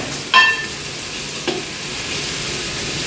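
Green chillies and mint fry in a pan, giving a steady soft sizzle with a brief sharp clink near the start and a faint knock a moment later.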